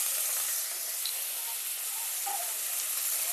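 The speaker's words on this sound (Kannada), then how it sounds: "ಇದನ್ನು ಚೆನ್ನಾಗಿ ಬಾಡಿಸ್ಕೋಬೇಕು ಎಣ್ಣೆಯಲ್ಲಿ." Chopped fenugreek leaves sauté in hot oil for a creamy methi matar malai curry, giving off a steady, even sizzling hiss without a break.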